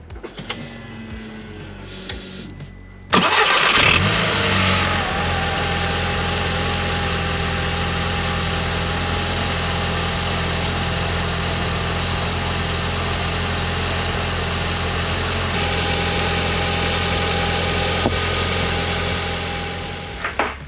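An Audi TT MK1 with the 1.8T engine cranks briefly and fires up, then settles into a steady, loud idle close by with no talking.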